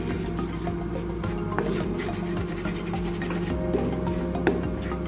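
Masala paste for egg makhani is stirred and scraped in an iron kadai, a continuous close rubbing and scraping with a few sharper knocks against the pan.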